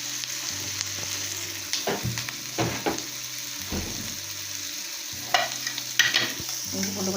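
Something sautéing in a pan for a green peas rice dish, a steady close frying sizzle with intermittent scraping stir strokes and a low background hum, no talk.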